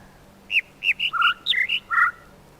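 Birds chirp close by in a rapid series of about ten short, clear tweets and whistled notes over quiet background hiss.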